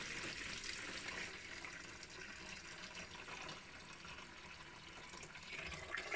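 Dirty water drains steadily from a caravan sink into a bucket at a ski resort, a continuous, fairly loud rushing splash with no break and no voices.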